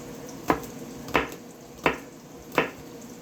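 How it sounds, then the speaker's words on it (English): A knife chops green onion into medium-sized pieces on a board: four crisp, evenly spaced chops, close and fairly loud, with no voices. "I like my green onion cut up nice"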